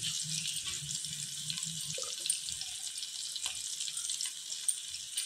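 Green chilies and whole spices fry in hot oil for bagara rice, giving a steady, bright sizzle with faint crackles and a few soft clinks from the pan.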